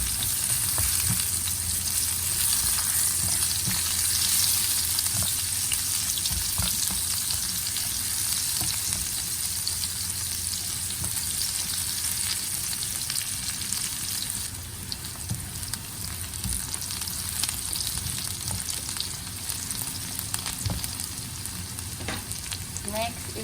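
Onions fry in a pan of sautéed garlic with a loud, continuous sizzle, broken by occasional scrapes and clatter of stirring, heard close up with no talking.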